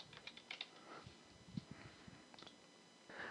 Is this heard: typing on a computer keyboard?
yes